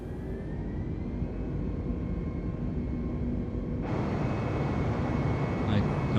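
Airliner jet engines spooling toward full power in MS Flight Simulator, a steady roaring whoosh that grows brighter and louder partway through, with people talking over it.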